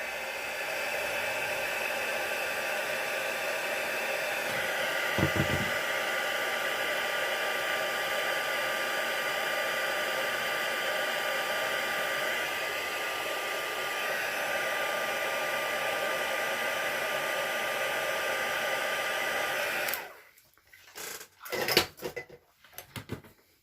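Heat tool blowing continuously for about twenty seconds to heat set ink on a pink floral card, a steady close rushing roar that cuts off, followed by a few faint handling knocks.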